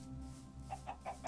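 A few quiet, soft Minecraft chicken clucks repeat in a quick rhythm over a low background hum.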